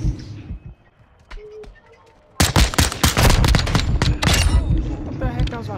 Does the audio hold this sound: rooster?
no